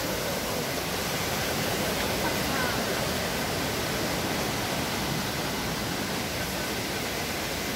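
Water rushes steadily in a stream at the El Limo geopark, a loud, continuous broadband roar that stays even from start to finish with no talk over it.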